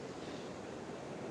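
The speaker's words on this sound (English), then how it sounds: "We're just sitting on the beach here in Appollo Bay." Ocean waves wash onto the beach at Apollo Bay, a soft, even broadband hiss heard faintly from a distance with no voices.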